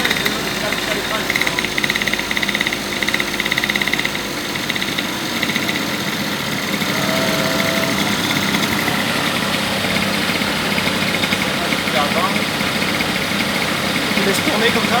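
Peugeot 103 moped with a Malossi 45.5 kit running steadily on a dyno, a loud continuous buzzing two-stroke drone with vibration throughout, voices talking over it.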